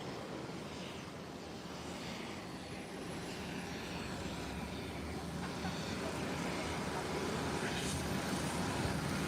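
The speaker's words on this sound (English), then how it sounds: "There you have it, rolling down the runway." A Falcon aircraft in a flight game rolling down the runway after landing: a steady, broad engine rumble and roar that builds slightly, continuous and without pauses.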